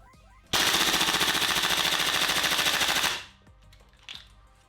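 A Tokyo Marui M4 MWS gas airsoft rifle on a cold magazine fires fully automatic, a loud rapid buzzing stream of shots lasting about two and a half seconds before stopping abruptly, followed by faint mechanical clicks.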